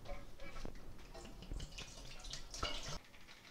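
Water pours into a home-brewing vessel in a kitchen, a splashing, trickling stream lasting about three seconds before it stops, close and moderately loud.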